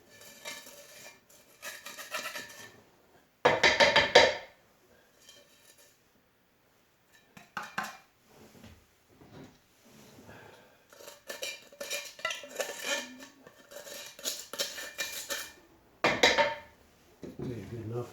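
Carbon foam and cornstarch mixed in a dirty can, heard as scraping and clinking bursts of stirring that come and go between quiet gaps, with a voice speaking at times.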